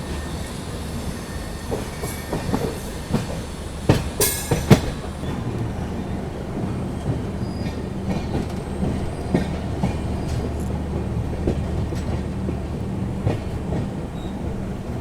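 The Goa Sampark Kranti Express running at speed on a long non-stop stretch, heard from aboard as a steady loud rumble with rhythmic wheel clatter and occasional sharp squeals and knocks.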